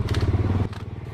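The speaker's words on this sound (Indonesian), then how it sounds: "ini motor 4 tak ini" A four-stroke motorcycle engine running close by, a loud, steady throbbing pulse that drops to a lower, rougher beat partway through, with no voices.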